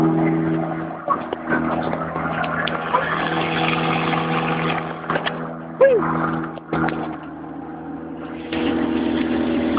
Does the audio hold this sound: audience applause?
no